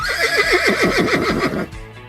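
A horse gives a loud, close neigh, a rapid series of wavering whinny pulses that fade out after about a second and a half.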